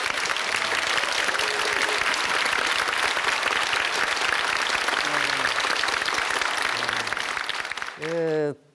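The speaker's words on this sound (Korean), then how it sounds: "여러분들이 좀 큰 박수 한번 보내주시면 감사하겠습니다" A lecture audience at a humanities talk gives sustained, loud applause that fills nearly the whole stretch, with a voice speaking faintly beneath it and a short spoken phrase cutting in at the close.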